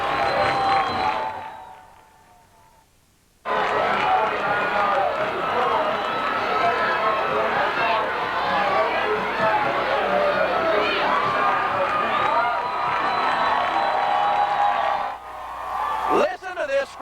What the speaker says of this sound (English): Listen to this Scrapper hometown crowd.